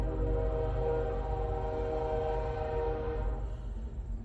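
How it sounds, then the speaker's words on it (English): A train rolls past close by, its loud sustained horn sounding as a steady multi-tone blare over the rumble of the cars, the horn dropping away near the end while the rail noise continues. "let's wait for the train to just overrun this reading."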